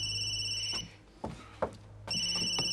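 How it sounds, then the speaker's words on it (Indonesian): A telephone rings in a lab with bright, steady electronic trills, cut by a short gap holding a few knocks and clicks, then resuming, close and clear. "Rekan si Wade di lab yang telepon sangat kebetulan sekali"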